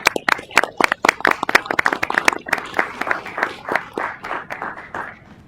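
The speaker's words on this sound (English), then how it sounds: "Let's give Caden a big round of applause." A small group at a school meeting claps in sharp, uneven bursts, loud at first and gradually thinning and fading out.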